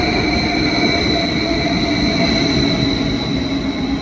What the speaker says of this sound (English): So this is not my train.